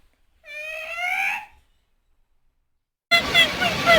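A storyteller's voice imitates a mother monkey's call in a children's folktale: a wavering, whimpering cry lasting about a second, then a pause and a sudden rough, noisy burst.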